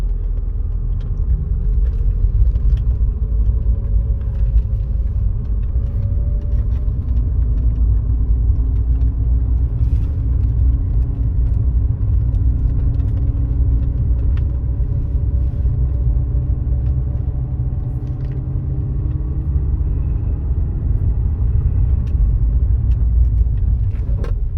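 A Mercedes W201 190E 16v runs steadily on the road, its engine a constant low rumble with mild swells of acceleration over about twenty-five seconds, heard from inside the car with no talking.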